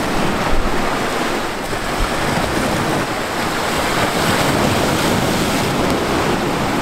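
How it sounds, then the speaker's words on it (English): Ocean waves crashing against rocks on a beach make a loud, continuous roar of churning surf, with gusty wind buffeting the microphone throughout and no voices. "Yeah, the waves are way too hard over here."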